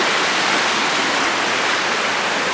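River rushing through a mountain gorge in the Perșani Mountains, a steady broad hiss of flowing water filling the scene, loud and close, with no voices.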